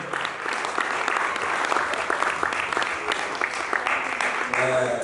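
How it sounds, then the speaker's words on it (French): Church seminary audience applauding steadily for the men of God, a dense continuous clapping crowd with a few voices cheering over it throughout. "Acclamez pour les hommes de Dieu, s'il vous plaît"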